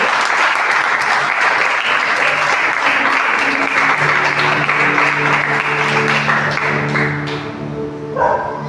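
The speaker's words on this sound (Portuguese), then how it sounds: "Agora dá uma salva de palmas para o Senhor." A church congregation in a Portuguese-language service claps loudly and steadily for several seconds. The applause then tapers off, and a few sustained organ or keyboard tones sound beneath it.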